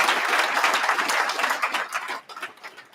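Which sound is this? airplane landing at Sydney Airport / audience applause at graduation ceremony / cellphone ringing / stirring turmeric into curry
audience applause at graduation ceremony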